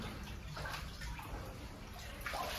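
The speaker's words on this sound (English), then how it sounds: "We're walking straight through the water." Continuous sloshing and splashing of water as people wade on foot through a flooded passage in a dark cave, steady and fairly close throughout with no speech.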